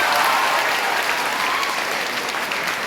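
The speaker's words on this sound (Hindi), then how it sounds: "अपने अपने माँ बाबूजी के लिए एक लड़का लड़की जबरदस्त ताली बजाओ" A large crowd at a live career counselling event claps hard for their parents, a thick and even roar of applause that holds steady throughout with no talk above it.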